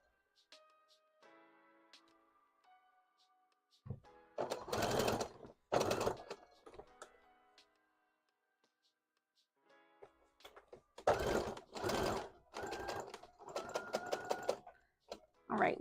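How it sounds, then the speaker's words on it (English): A sewing machine stitches ears onto a Pokemon hat, running in several short bursts of rapid mechanical chatter separated by quiet pauses and faint clicks, up close and fairly quiet. "we're sewing the skitty ears on"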